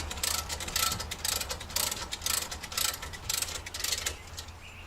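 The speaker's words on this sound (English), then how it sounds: "So we'll just put a adjustable on there just to hold it while we snug them down." An adjustable wrench steadies a brake caliper slider pin on an SVT Raptor front brake while the pin is snugged down, producing a steady run of quick ratcheting clicks, close and fairly soft, with no talking.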